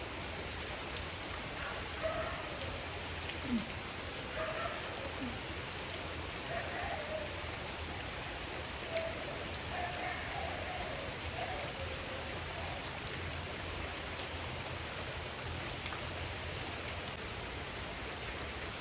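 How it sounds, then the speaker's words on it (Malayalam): Rain falls continuously in a steady, even hiss of drops on surfaces nearby, with faint low voices and occasional murmurs heard under the downpour. "മഴ വിടുന്ന ലക്ഷണമൊന്നുമില്ല."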